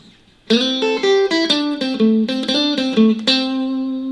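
A distorted electric guitar plays a quick pentatonic lick of bending, sliding notes, ending on a long sustained tone, loud and alone.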